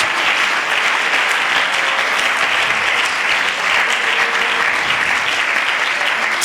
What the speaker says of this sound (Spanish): Dele ese aplauso bien fuerte a Dios